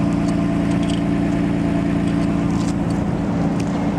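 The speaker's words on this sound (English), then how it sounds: "That's running stock exhaust." A 1990 Nissan Skyline GT-R Nismo on its stock exhaust idles with a steady, low, droning rumble. The engine is heard up close and constant, with no revving and no voices.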